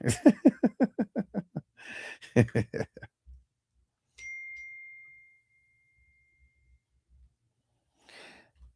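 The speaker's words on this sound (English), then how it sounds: "It's always good when I get a text message on a snipe." A phone text message notification gives a single clear ding that rings out briefly after someone talks and laughs, then quiet breathing follows.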